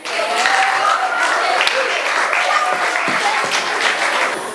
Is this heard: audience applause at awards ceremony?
yes